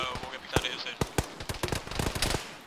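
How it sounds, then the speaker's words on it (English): Gunfire in a military video game: scattered sharp cracks and bursts of shots, fairly faint and distant, under ongoing radio-style voices talking throughout. "Multiple gunfire."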